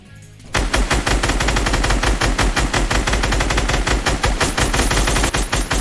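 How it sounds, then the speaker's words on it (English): Scar assault rifle firing in Fortnite, a loud, close burst of rapid automatic shots in a steady rhythm lasting several seconds after a brief quiet lead-in. "let's go ahead and hop right into the Scar. First, I want to show you guys gameplay of it side by side"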